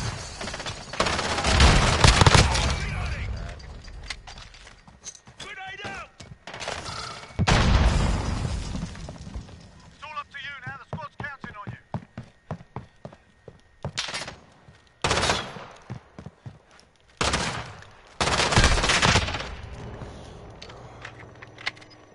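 MP7 submachine gun fire in Call of Duty Modern Warfare, loud rapid bursts of shots and explosive blasts coming in repeated clusters, with short fragmented sounds and brief pauses between volleys.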